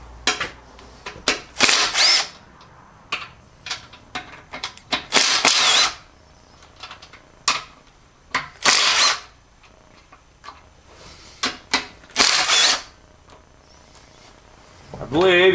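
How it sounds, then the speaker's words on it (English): A power tool whirs in repeated short bursts while removing bolts from the distributor sleeve of a C6 transmission from a 1980 F-350 service truck, loud and close, with pauses of quiet between runs. "Now we're going to remove the bolts for the distributor sleeve off."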